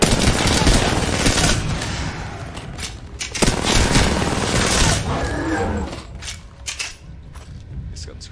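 Rapid bursts of video game gunfire, loud and dense for several seconds with mechanical clatter, then thinning into a few scattered shots toward the end.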